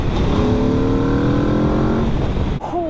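A 2024 Aprilia RSV4 sport motorcycle revving while idling out of a parking lot, loud and close, its tone climbing steadily in pitch over two seconds before dropping off sharply, followed by a quick blip.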